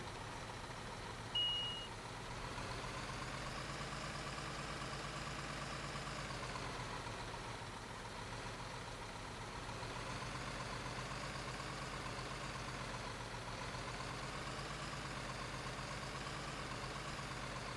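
A truck engine in the Construction Simulator video game runs with a steady, continuous mid-range drone, idling evenly throughout with no voices.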